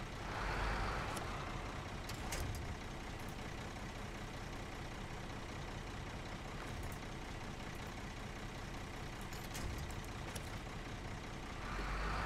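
Heavy truck engine in the SnowRunner video game, hauling a trailer along a snowy road, a steady loud drone with airy brake-like hisses and clicks scattered through, no talk.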